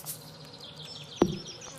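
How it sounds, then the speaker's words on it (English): A short buzzing insect effect from Stardew Valley hums faintly with a wavering drone, punctuated by one sharp, brief accent midway, with no voices. "Oh, I hear bees."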